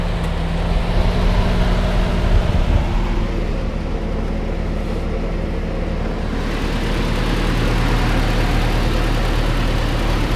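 1986 Mazda B2000 pickup truck with a 2-liter, 122 cubic inch four-cylinder engine idling steadily, a smooth, even, continuous hum heard up close with no talking.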